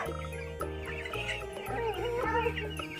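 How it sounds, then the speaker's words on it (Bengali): Chickens on a poultry farm cluck and call in overlapping bursts, a dense, steady flock chorus that fills the clip without pause. "এখানে পোল্ট্রি মুরগি চাষ হচ্ছে"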